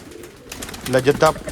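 Pigeons coo in soft, throaty bursts that swell toward the end, close by, with a faint murmur of background noise before them.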